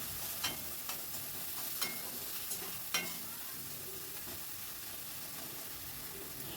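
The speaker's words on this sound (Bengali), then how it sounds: "আবার একটু নাড়াচাড়া করে দিচ্ছি।" Softened tomatoes and red spinach being stirred in a pan, with a steady low sizzle and a few sharp scraping clicks of the spoon in the first three seconds, no talking.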